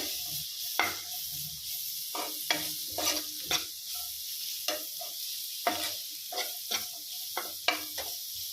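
Noodle mixture is stirred in a hot pan over a soft sizzle, with repeated spatula scrapes and knocks spaced about every half second to second, close and moderately quiet.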